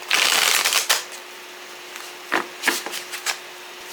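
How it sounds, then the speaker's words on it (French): A kawaii tarot deck being shuffled by hand: a dense riffling burst for the first second, then several short, crisp card flicks and taps, close and fairly quiet, with no talking. "Du coup je brasse un petit peu mon jeu."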